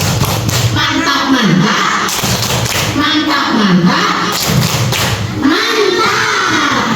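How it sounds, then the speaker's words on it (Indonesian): Schoolchildren in a coding class clap out a patterned rhythm, with loud, close claps and thumps in repeating groups while young voices call along between the beats. "Ingat tepuknya gini, tepuk."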